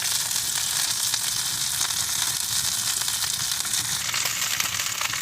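Steak sears in a very hot pan, a loud, dense, continuous sizzle and crackle holding steady throughout, close and with no voices over it.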